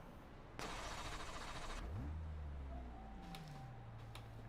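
A GT4 car in iRacing fires up and revs, a loud burst of engine noise followed by a rising then settling tone as the pit-lane limiter engages, near and continuous with no talk.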